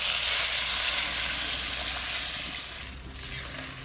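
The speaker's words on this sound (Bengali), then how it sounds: "এবার জল দিয়ে দিচ্ছি।" Water poured into a hot pan of sea Para fish curry, cooked without onion or garlic, sets off a loud, steady broadband sizzle and hiss that fades slightly toward the end, with no talking.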